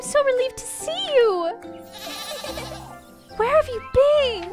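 A goat in the video game Little Goody Two Shoes gives several wavering bleats, loud and close, mixed with a person talking.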